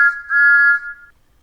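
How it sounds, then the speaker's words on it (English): Thomas the Tank Engine sounds his new whistle loudly: one sustained, steady high-pitched blast lasting about a second, clean and alone before fading into silence. "He blew his new whistle loudly."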